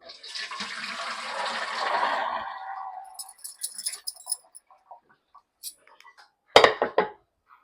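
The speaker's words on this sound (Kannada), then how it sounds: "ಇದನ್ನು ಒಂದು ಸ್ಟೇನರ್ಗೆ ಸೋಯಿಸ್ಕೊಳ್ಳೋಣ" Boiled horse gram poured into a strainer, a rushing splash of water draining for about three seconds, followed by scattered light metallic clinks and taps of the pot and strainer, close up.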